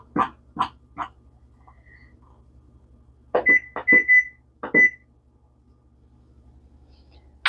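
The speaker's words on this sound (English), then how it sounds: "I'm going to set the timer for 90 minutes" A kitchen timer gives short high beeps as it is set, a single faint one first and then a quick run of four or five chirps, mixed with sharp clicks and knocks of handling in a quiet kitchen.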